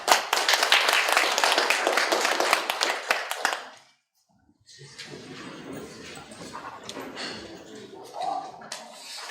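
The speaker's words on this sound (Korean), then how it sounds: "큰 박수로 부탁드립니다." Audience applause at an academic conference opening ceremony in Korea, a steady burst of clapping that stops abruptly after about four seconds, followed by quieter room noise and light shuffling.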